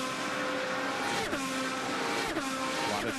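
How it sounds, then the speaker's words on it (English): IndyCar race cars roar around the Indianapolis Motor Speedway during 2010 Indianapolis 500 Bump Day qualifying. The loud, continuous engine whine drops sharply in pitch as two cars sweep past in quick succession. "A lot of traffic out there on the race course besides TK"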